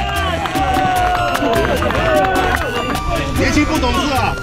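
A street crowd at a Police Day rally held by pension-reform protesters claps and cheers, with loud steady hand claps under continuous crowd babble and voices.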